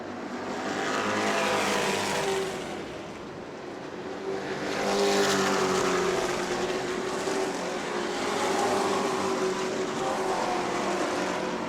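Race cars roar around the short oval at New Smyrna Speedway, engines droning loudly and steadily with rising and falling passes, no voices.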